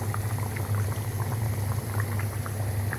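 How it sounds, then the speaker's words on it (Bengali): Spicy chicken curry boiling in a pot: a continuous, dense bubbling with a low steady hum underneath, close and moderately quiet, no one speaking. "কিন্তু এখন সুন্দর করে আমি বেশ কিছুক্ষণ ফুটিয়ে নিব"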